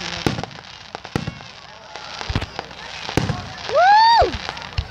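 Fireworks burst in a rapid series of sharp, loud bangs and crackles, one ending in a whistling rocket screech, while people shout in the background.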